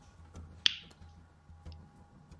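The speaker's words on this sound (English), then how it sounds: "I was cracking my neck." A single sharp neck crack sounds close and quiet during an online Dota 2 match, a crisp snap-like pop followed by faint scattered clicks, with no one talking.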